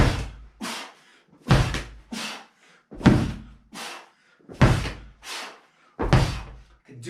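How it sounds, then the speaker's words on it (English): A slam ball is hurled down repeatedly during a home dryland strength workout, about ten heavy thuds in a steady rhythm, each a sharp loud impact with a short decay, close and clear with no talking. "So for your hammer slams"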